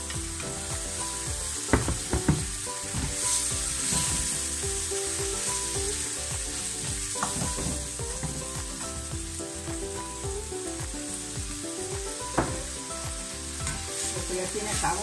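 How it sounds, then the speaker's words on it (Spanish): Rice sizzles in hot olive oil with a little sugar, a loud continuous frying hiss with occasional stirring clatters and scrapes of a utensil against the pan, close up and without talking. "Y en este momento voy a añadir"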